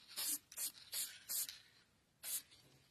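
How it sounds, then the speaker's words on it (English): An aerosol can of fixative is sprayed over a soft pastel chalk drawing of hummingbirds in short bursts: four quick hisses, a pause, then one more, fairly close. "spray like a layer of fixative right through that center there"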